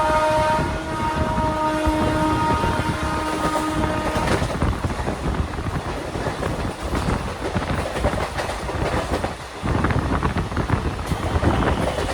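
Indian intercity train between Howrah and Bardhaman at about 110 km/h sounds a horn in a sustained blast for the first few seconds over loud continuous rumble and clatter of the speeding cars.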